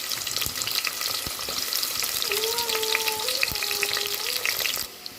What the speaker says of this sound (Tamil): பாருங்கள் நம்ம வெங்காயம் வதங்கிட்டுருக்கு.